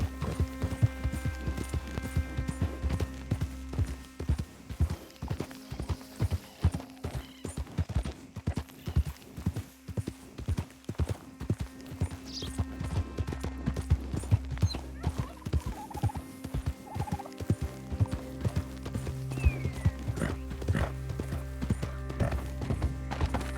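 Steady hoof clip-clop of a horse in the video game Red Dead Redemption 2, rhythmic and continuous over a droning game ambience with scattered bird calls, no talking.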